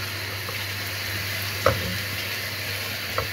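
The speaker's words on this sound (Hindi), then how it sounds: "अब हम इसको करेंगे फ्राई।" Ginger garlic paste frying in a pan while cooking chicken karahi, giving a steady low sizzle with a couple of brief stirring scrapes, no talking.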